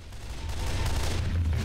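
Gunfire shooting at a zombie in the video game Left 4 Dead 2 comes as a dense, continuous rattle of rapid shots under a low rumble, brief and moderately loud, with no talk.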